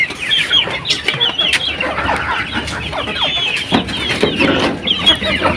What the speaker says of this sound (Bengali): ডিমের মুরগি